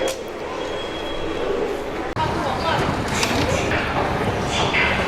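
Continuous rumble of a Shanghai subway train in motion, rattling wheels and clatter with a brief dropout partway, people talking faintly over it.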